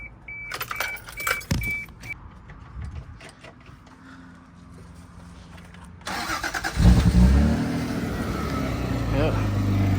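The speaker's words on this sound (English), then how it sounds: "Nice little startup." A Toyota MK3 Supra starts up: keys jingle and clicks sound first, then the engine cranks and catches into a loud, rumbling idle that holds steady, with a person talking nearby.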